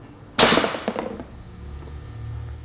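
A single sharp gunshot cracks from a breech test rig firing a taped 9mm bullet, loud and close, followed by a brief rattling echo and quiet room tone.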